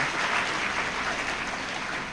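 A seated audience at a spiritual talk applauds together, a loud sustained wash of clapping that tapers slightly toward the end.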